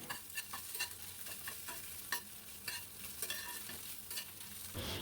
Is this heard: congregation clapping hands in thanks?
no